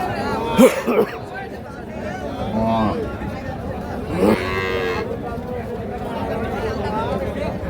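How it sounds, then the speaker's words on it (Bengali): A Sahiwal cow lows briefly amid a noisy outdoor cattle market crowd in Narayanganj, with people chattering throughout. "আর এখানে একটা গাভী"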